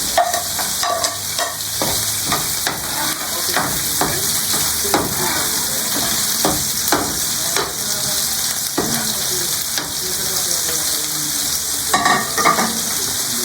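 Sliced onions frying in a pan for pork liver steak, a steady loud sizzle throughout with repeated scrapes and clinks of a spatula stirring, no talking.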